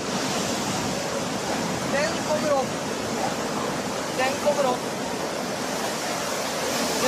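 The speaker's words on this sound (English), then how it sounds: "here's another video of waves flooding the shore as people watch in Koh Lanta" Tsunami waves from the 2004 Boxing Day disaster flood the shore at Koh Lanta, a constant loud roar of rushing water filling the whole stretch, with faint voices of onlookers surfacing now and then.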